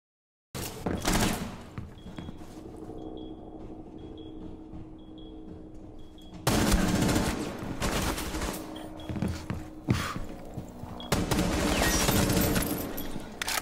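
Gunfire in Rainbow Six Siege, with dense bursts of automatic shots in two main volleys separated by quieter stretches with faint beeps.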